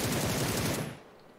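Automatic gunfire in PUBG, a fast, loud rattling burst of suppressive fire that holds for most of a second and then cuts off into near silence.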